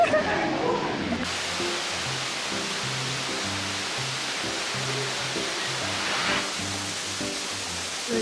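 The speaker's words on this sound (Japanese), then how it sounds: "今ホテルの中に滝があるんだけど" An indoor waterfall inside a hotel gives a constant broadband rush of falling water. People talk intermittently over the steady wash.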